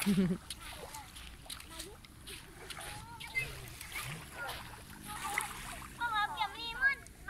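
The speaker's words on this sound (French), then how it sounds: "Un autre groupe d'enfants qui se baignent." A group of children bathes and splashes in the sea off Bangpor beach on Koh Samui, Thailand, with soft sloshing water and distant kids' voices and shouts mixed with nearby talk.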